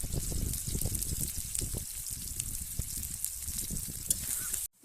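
Onions sizzling and frying in a pan, a steady broadband hiss with crackling bursts that runs loud and continuous for about five seconds before cutting off abruptly at the end.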